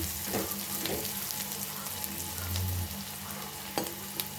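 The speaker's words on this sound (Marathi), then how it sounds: "थोडासा तांबूस रंग येईपर्यंतच आपण याला भाजून घ्यायचं आहे" Onion frying in a pan for a capsicum sabji, a steady soft sizzle with a few brief scraping stirs, fairly quiet and close, no voices.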